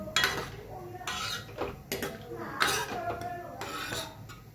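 A spoon scrapes and clinks against a metal pot while food is mixed, in several distinct bursts of scraping with short pauses between, close and moderately loud.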